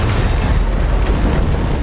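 Loud, continuous rumbling booms of explosions in a Fortnite live event, a dense low roar that never lets up through the whole moment.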